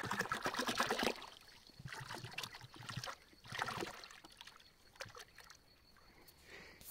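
Liquid fertilizer (a multicomplex product for raspberry feeding) pours into a one-tonne barrel of water, heard as a close, sloshing gush that surges and eases in several uneven waves.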